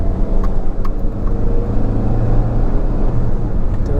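A 2007 Maruti Suzuki Zen Estilo LXI with a 1.1L petrol engine pulling through its gears, a loud, steady low engine drone and road rumble heard from inside the cabin, with no voices.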